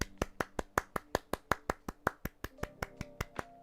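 Sharp single claps, about sixteen in a steady, evenly spaced rhythm, close and crisp with no talking, as if one person is clapping alone.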